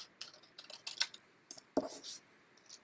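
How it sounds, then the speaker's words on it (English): Scissors snipping around a paper daffodil petal: a series of quiet, crisp cuts in an irregular rhythm, close and alone. "So I'm just going to cut around."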